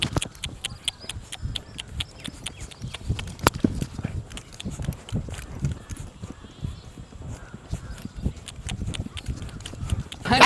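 Hooves of a horse being ridden during training clop in a steady, irregular walking rhythm, close and distinct, with someone speaking over them.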